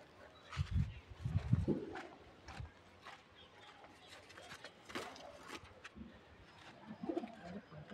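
Kaldam pigeons in a pigeon loft give low, throaty coos in a few close bursts early on, followed by quieter rustling and scattered softer calls.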